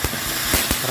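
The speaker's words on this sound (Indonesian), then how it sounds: "yang pertama kita sumbat mercon air mancur jumbo dari Cina" A jumbo Chinese fountain firework sprays outdoors at dusk with a steady loud hiss and scattered crackling pops, heard close up for about a second.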